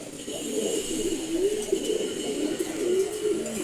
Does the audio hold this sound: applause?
no